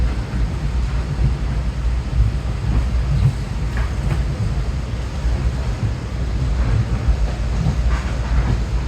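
A Metro-North commuter train heading to Stamford runs steadily on third-rail power, giving a loud continuous rumble and roar of wheels on track with faint rhythmic clatter throughout.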